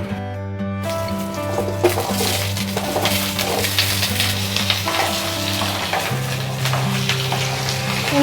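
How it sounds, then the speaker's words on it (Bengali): Two potatoes frying in a pan with salt and turmeric, a loud, steady sizzle that runs throughout, with occasional stirring scrapes and light clinks of the utensil. "যতক্ষণ ভুট্টাটা সেদ্ধ হচ্ছে ততক্ষণ আমি দুটো আলু ভেজে নেব"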